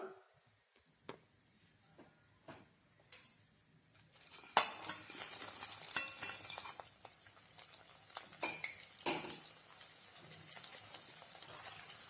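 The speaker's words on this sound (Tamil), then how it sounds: "இப்போ அந்த காலிஃபிளவர் போட்டு நம்ம ஃப்ரை பண்ணி எடுத்துடலாம்" Cauliflower florets for gobi manchurian go into hot oil. A few isolated clinks and taps come first, then a sudden burst of sizzling and crackling frying sound continues at moderate volume with scattered utensil knocks.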